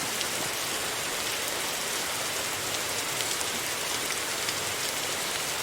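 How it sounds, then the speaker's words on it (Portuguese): Rain falls in the Roblox survival game 99 Nights in the Forest, a steady, even patter of drops on surfaces continuing throughout without talk. "Não vai dar agora, porque tá chovendo."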